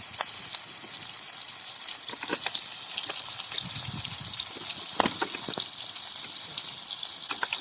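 Clams (kakka) frying in a pan give a soft continuous sizzle, punctuated by scattered clicks and scrapes as they are stirred, fairly quiet and close with no talking.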